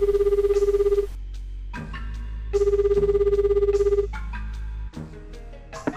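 A telephone rings twice in Shenmue while Ryo calls directory assistance: steady electronic ringing bursts separated by a short pause, with a low hum and clicks between them.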